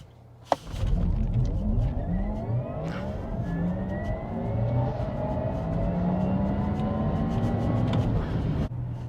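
A Porsche Taycan Turbo electric car accelerates hard and close, its loud whine climbing steadily in pitch through repeated surges after a sharp thump at the start.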